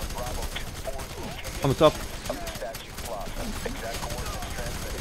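Gunfire from the F.E.A.R. 3 video game during a co-op campaign, a few sharp bursts cracking out over a steady noisy battle backdrop while someone talks over it.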